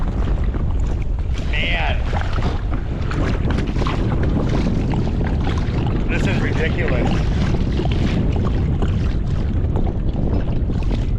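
Strong wind roars over the microphone while kayaking on open water in early spring, a loud continuous buffeting rush throughout, with someone speaking under it.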